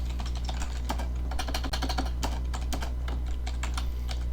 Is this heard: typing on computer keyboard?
yes